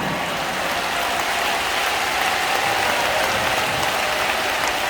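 Congregation at a church rally for free unification clapping continuously, a dense, loud, even wash of many hands with no pauses.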